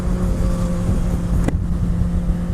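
Honda CBR600RR 2017 sport motorcycle engine droning steadily at close range while riding, with heavy wind rush over it and a brief sharp transient partway through.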